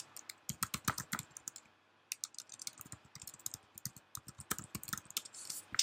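Rapid, uneven keyboard typing with crisp clicks, close and fairly quiet, coming in bursts with a short pause near two seconds, no voices.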